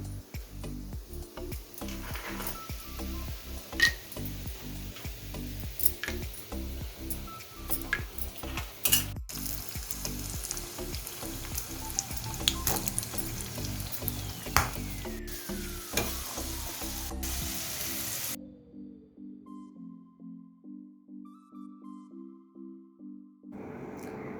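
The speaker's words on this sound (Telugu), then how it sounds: "పక్క ప్యాన్లో కొంచెం నెయ్యి వేసుకొని అందులో కొంచెం జీడిపప్పు, బాదం పప్పు, కిస్మిస్లు ఫ్రై చేసి పెట్టుకుందాం" Cashews, almonds and raisins frying in ghee in a pan give a steady soft sizzle with occasional clinks and stirring taps, ending in a quieter, rhythmic ticking stretch.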